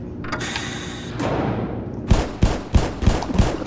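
Gunfire in the video game Black Mesa: a rapid series of sharp, punchy shots in quick bursts, preceded by a hissing, clattering stretch of in-game noise, loud and close.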